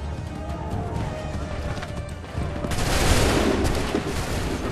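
A firing squad in Assassin's Creed III fires a loud massed musket volley about halfway through, following a stretch of horse hooves clopping and battlefield noise.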